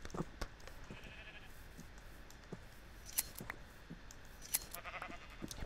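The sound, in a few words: sheep bleating in the video game Minecraft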